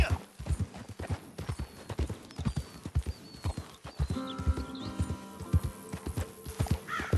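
A horse gallops in the Red Dead Redemption 2 video game with rapid, rhythmic hoofbeats close by, joined by brief game music and snorting partway through.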